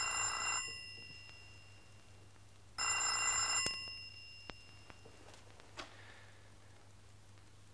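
An old telephone bell rings in two bursts, the first fading as the second starts loud and clear, then a few faint clicks and knocks follow in a quiet room.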